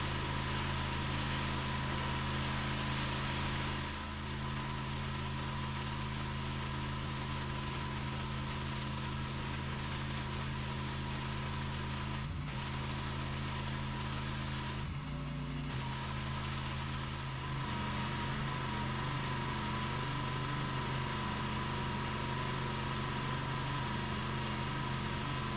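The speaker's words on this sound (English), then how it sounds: "Today I'm going to be outside power washing as a surprise." A pressure washer cleaning a steep residential driveway, its engine droning loud and continuous with a steady hissing spray, briefly dipping and changing pitch a couple of times.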